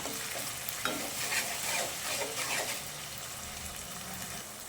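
Onion and ginger paste for liver curry fries in a pan with a steady broad sizzle, punctuated by scraping stirs that briefly rise over the hiss.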